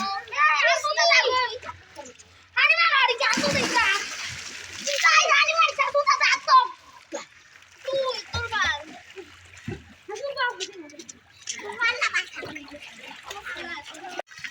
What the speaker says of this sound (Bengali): এই যে দেখেন ইয়ারা সাঁতার কাটে